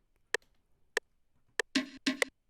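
Dry wooden percussion hits in a chill siren jam beat: three single sharp knocks spaced evenly, then two quicker, fuller double strikes near the end, close and alone.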